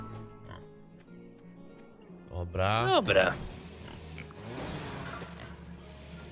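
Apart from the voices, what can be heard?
pigs oinking in video game Farm Together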